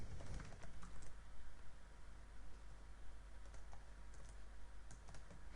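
Keys on a computer keyboard clack in a steady, quiet run of typing while an HTML page layout is being set up, close to the microphone with no talking.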